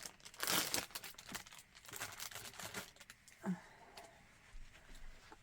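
Resealable plastic bags holding yarn crinkle and rustle in close, irregular bursts, louder at first and then tapering into softer handling rustles.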